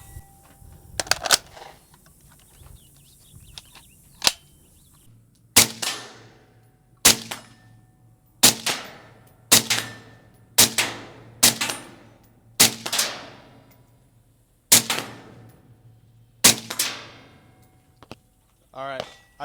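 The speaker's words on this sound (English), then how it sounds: "I'm going to go ahead and take some shots off now" A suppressed Galil Ace 13-inch 5.56 SBR rifle firing about a dozen sharp, loud shots at a slow, steady pace, each crack ringing briefly, with a couple of faint early clicks.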